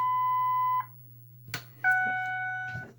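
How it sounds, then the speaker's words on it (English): A 2008 Ford F250 Super Duty PATS anti-theft system beeps: a steady tone at the start, a short clatter, then a two-tone beep, all over a constant low electrical hum. "It's gonna beep, it's gonna be annoying."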